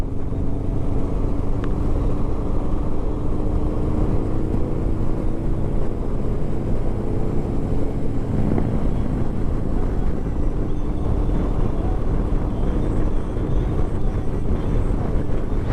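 A Harley-Davidson Road Glide motorcycle riding a sighting lap on a track, its low engine rumble mixed into heavy, constant wind buffeting, loud and unbroken throughout with no talk.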